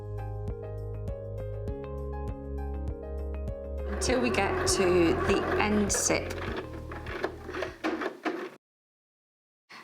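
A sewing machine runs a long-stitch seam along a zip in a steady mechanical chatter with regular rhythmic pulses, then a person speaks over the whirring before it stops abruptly, leaving silence.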